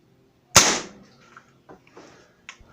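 A Crosman F4 break-barrel air rifle firing a .177 caliber 7.0 grain domed pellet outdoors: one sharp, loud crack, then faint ticks and rustles afterward.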